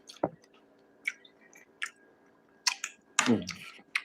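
A person eats a simple home-cooked meal on camera, with scattered wet, squishy chewing and clicking mouth sounds close to the microphone, irregular bursts separated by quiet pauses.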